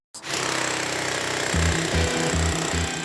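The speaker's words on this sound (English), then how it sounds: "the first thing they reach for is a pneumatic drill" A pneumatic drill breaks up a Yorkshire stone floor in a basement, loud and close, with a steady hammering roar that changes into rhythmic stuttering bursts partway through.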